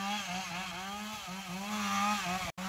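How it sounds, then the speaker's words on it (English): A chainsaw runs steadily while cutting brush beside a creek, a loud continuous engine drone that wavers slightly in pitch and cuts out abruptly near the end. "he's bush hogging with a chainsaw because the creek is right there"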